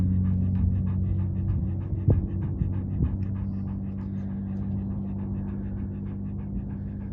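A dog pants in quick, steady rhythmic breaths close by over a low engine-like hum, with a couple of faint knocks partway through.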